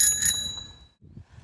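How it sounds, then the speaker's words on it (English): A bicycle bell rings twice in quick succession at a reservoir, bright and close, its tone fading out, followed by light rustling. "So sound the bell."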